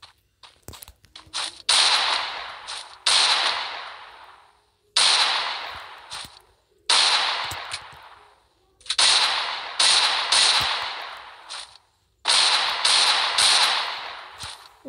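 A Desert Eagle pistol fires repeatedly in the Free Fire game, loud sharp shots in several rapid clusters of two to four, each trailing off with a ringing echo and separated by short silences.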